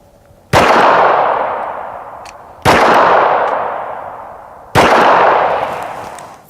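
.45 ACP rounds strike AR500 steel body armor in three sharp, loud impacts about two seconds apart, each with a ringing metallic decay that fades before the next.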